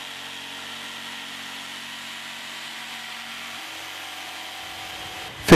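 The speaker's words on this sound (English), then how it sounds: "The GST 140 is capable of cutting dead straight in a variety of materials" A Bosch GST 140 professional jigsaw cuts steadily, a continuous buzzing saw drone at moderate volume, ending with a brief loud clatter.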